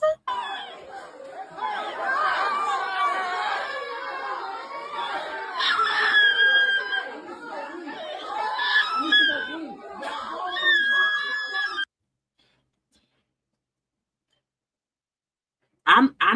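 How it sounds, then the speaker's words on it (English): A girl screaming amid loud crowd chatter and laughter, with high shrieks rising repeatedly over overlapping voices before a sudden cut to silence. "That girl screaming will get on my fucking nerves."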